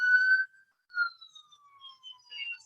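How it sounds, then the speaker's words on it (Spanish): A police siren wails from a distance, its rising and falling tone faint and intermittent, with no other sounds in between. "¿Qué acá está sonando una sirena?"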